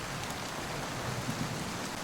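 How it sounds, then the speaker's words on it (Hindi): Steady heavy rain falls during the first monsoon of the season, a dense constant hiss of drops pattering on surfaces with running water mixed in, unbroken and without talk. "बारिश लगातार धरती पर बरस रही थी। चारों ओर सिर्फ बारिश की टप टप और बहते पानी की आवाजें सुनाई दे रही।"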